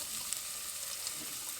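Diced carrots and celery fry in a pan over fairly high heat, a continuous bright sizzling hiss with a couple of tiny pops, close by and on its own.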